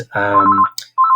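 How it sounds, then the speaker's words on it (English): Telephone ringing indoors, a short burst of rapidly pulsing electronic trill, loud and close, followed by a second ring after a brief gap. "excuse the phone ringing"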